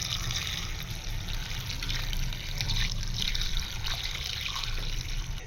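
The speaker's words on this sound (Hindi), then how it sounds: "करीब 2 लीटर के पानी हम इसमें शामिल कर देंगे।" Water poured into a clay pot of beef korma with spices, a steady continuous splashing fill lasting several seconds, close and fairly loud over a low background rumble.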